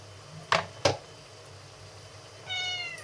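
A cat gives two short, clear meows close by, then a longer tonal meow after a pause, with a quiet indoor background and no talking.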